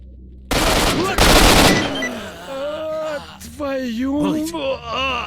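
Gunfire erupts in an ambush in the video game S.T.A.L.K.E.R.: Shadow of Chernobyl: a dense, loud burst of rapid automatic shots lasting about a second, followed by a groaning, strained voice.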